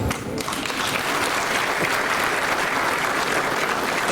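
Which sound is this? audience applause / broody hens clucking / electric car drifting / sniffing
audience applause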